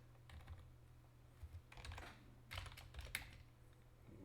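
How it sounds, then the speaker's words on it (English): A command is typed on a computer keyboard, a quiet scatter of soft key clicks in short bursts with a louder cluster in the middle and a faint steady hum beneath. "So now we can just type make VM to create virtual machine"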